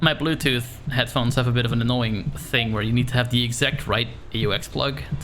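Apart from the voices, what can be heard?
No everyday noises stand out.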